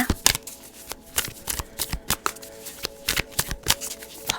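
Tarot cards being shuffled by hand make a quick, close run of crisp riffling snaps and soft slides that repeat rapidly and unevenly, with no talk.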